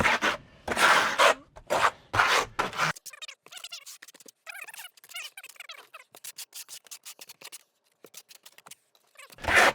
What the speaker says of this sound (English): Use that flat side of the trowel.